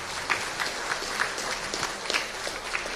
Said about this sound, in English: Can we get a round of applause for all of our performers tonight?